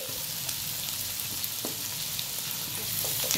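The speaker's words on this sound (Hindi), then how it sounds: "तकरीबन 2 से 3 मिनट की इसे भुनाई देंगे हम।" Onion, ginger-garlic and tomato fry in a pan with a steady close sizzle. A few soft stirring knocks sound over the top, and the sizzle grows slightly louder toward the end.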